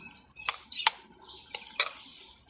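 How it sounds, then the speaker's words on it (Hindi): A spoon mixing custard seviyan in a pot, giving a few light metallic clinks and scrapes spaced irregularly, close and fairly quiet. "चम्मच के साथ अब इसको मिक्स करेंगे।"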